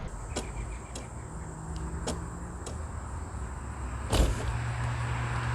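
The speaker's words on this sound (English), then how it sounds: "you hit unlock and then you hold it down for a second time and all 4 of your windows will crack" Power windows on a 2016 Honda Civic LX lowering together after the key fob's unlock button is held, heard as faint motor whirs and soft clicks against quiet outdoor background, with one sharper thunk near the end.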